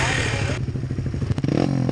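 A motorcycle engine popping while riding, a loud rumbling drone broken by quick crackling pops and sputters, recorded close in wind noise.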